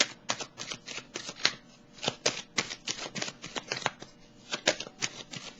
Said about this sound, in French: Je viens tout juste de brasser les cartes et je me suis arrêtée ici.